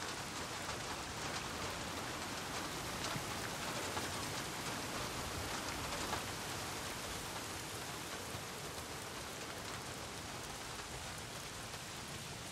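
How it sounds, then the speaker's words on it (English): Steady rain in the video game Days Gone, a dense, even hiss of drops falling on surfaces throughout, fairly quiet and unbroken, with no voices. "If it's not the freaks, it's the goddamn rain."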